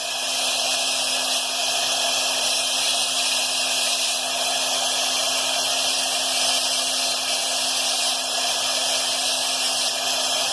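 A power tool cuts and carves a block of Aguascalientes stone, giving a steady, loud, high-pitched whine with a constant hum that runs unbroken throughout, with no talking.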